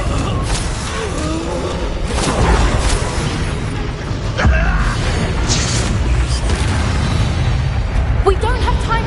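Confringo blasting-spell explosions in the video game Hogwarts Legacy: several booming bursts and crackles over a constant roar of game noise, with a character shouting the spell name amid the din.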